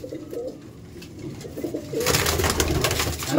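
A pair of Abluk pigeons coo in low, throaty phrases nearby, then a louder rush of noise and flutter takes over the second half.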